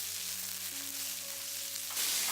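Onions, capsicum and carrot tossed in a pan over high flame for veg Manchurian, a strong close sizzle with a faint hum underneath, then a louder rush of frying as the vegetables are tossed near the end.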